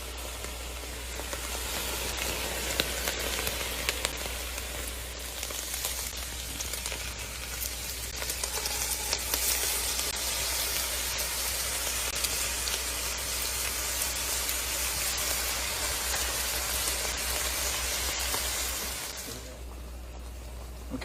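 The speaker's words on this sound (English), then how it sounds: "Now we're gonna saute these until they get soft." Vegetables sautéing in a pan with drained, browned meat give a steady, loud sizzle and hiss that holds unbroken for about nineteen seconds, then drops away abruptly near the end.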